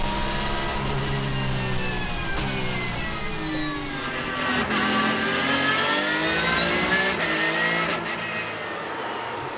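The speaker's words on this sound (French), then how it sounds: "Le drapeau vert est agité, c'est parti pour cette toute dernière course de la journée." Ferrari and Porsche racing cars start a circuit race at Val de Vienne, a loud, dense roar of many engines revving and shifting together, with rising and falling whines layered throughout.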